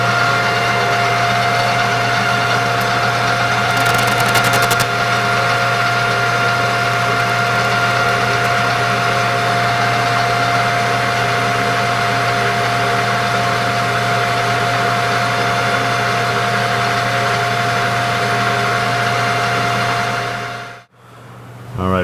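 A machine takes the final cut on a steam wagon sprocket shoulder, a loud, steady mechanical hum with a constant whine that runs for about twenty seconds, then cuts out abruptly near the end.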